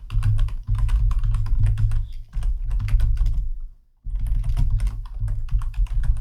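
Steady, close computer keyboard typing while code is written, dense clicks with two brief pauses near the two-second mark and a longer gap around four seconds, no voice.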